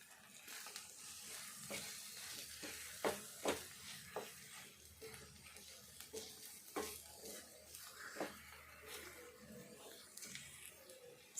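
Spiced potato mixture stirred in hot oil in a pan, with a steady soft sizzle and irregular scraping strokes of the spoon, close and fairly quiet with no talking.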